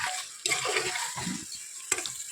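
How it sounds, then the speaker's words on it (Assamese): Rice being fried and stirred in a pan, a brief close scraping hiss with gentle crackling, rising in short bursts as it is moved about. "ভাল কৰি চাউলখিনি ভাজি ল'ম"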